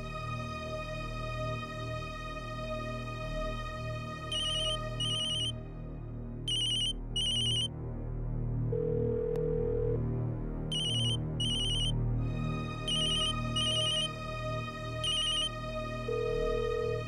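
A telephone call to Akshara goes unanswered while an electronic ringtone repeats in patterned bursts over a low hum, with brief tonal beeps in between and no voices.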